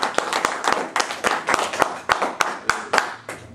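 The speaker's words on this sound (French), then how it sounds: "Je voudrais donc demander à ceux qui sont présents quand même d'applaudir l'événement" Audience applause at a political event in Atlanta: a few people clapping in an uneven rhythm, close and fairly loud, with no voices.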